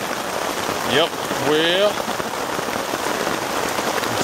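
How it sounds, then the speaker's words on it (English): Heavy rain drums steadily on a tent at a motorcycle campsite, a dense continuous patter that fills the whole clip while someone speaks a few words briefly near the start. "It's raining like crazy."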